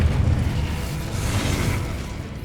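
The Incendio fire spell cast in Hogwarts Legacy, a loud whooshing burst of flame with a low rumble that trails off over a couple of seconds.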